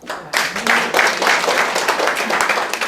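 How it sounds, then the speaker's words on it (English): Audience applause breaks out at a real estate sales seminar, a dense wash of many hands clapping that starts abruptly after a brief pause and holds steady and loud to the end. "You can clap for that."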